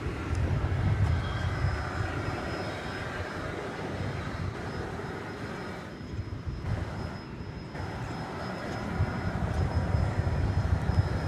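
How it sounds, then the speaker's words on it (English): An Airbus A320 airliner arrives at Dallas Fort Worth airport on a summer evening. It sounds like a steady, mid-distance engine roar with low rumble that dips briefly midway and swells again toward the end. "Flight 1381 coming in from Spokane, Washington, an Airbus A320"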